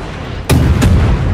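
Naval guns on a destroyer fire armour-piercing shells in the World of Warships game, two loud booming shots close together over a constant heavy rumble.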